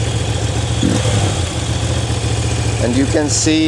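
A Moto Guzzi V7 Sport motorcycle engine runs steadily close by with a low, grumbling idle and slight revving, while a person talks over it.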